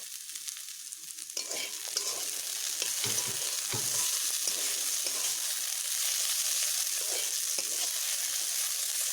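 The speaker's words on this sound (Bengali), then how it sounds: "এবার একটু আমি হিটটা বাড়িয়ে দিয়ে ভেজে নেব" Green plantain peels fry in oil in a pan over raised heat, a continuous bright sizzle with occasional stirring scrapes and clinks, close and steady, no voices.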